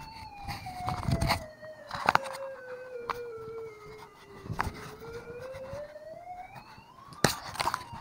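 A police siren wails in slow rising and falling sweeps, moderately loud, with a few sharp thumps and bursts of noise breaking in at intervals.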